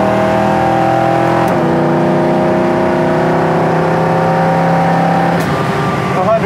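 A 1972 Chevy Nova's small-block V8 engine revs loudly and steadily up close, its pitch climbing in pulls, with brief dips where the gears shift.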